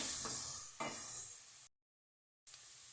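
Chopped hot peppers sauté in a hot pan with a steady, bright sizzle and hiss. The sizzle is briefly interrupted by a stir, then drops to complete silence for nearly a second before resuming.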